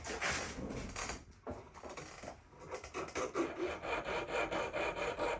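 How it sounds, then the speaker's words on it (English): A coarse metal file rasps back and forth over a solder joint on a handmade pendant, steady repeated strokes close up and fairly quiet, with no talking. "So we're going to file it smooth."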